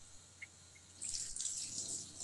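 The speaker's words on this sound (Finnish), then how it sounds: "Tuo kuulostaa ihan Aden kuseemiselta." A faint liquid stream of someone urinating starts after a couple of small drips, a soft steady hissing trickle continuing to the end, quiet and fairly close.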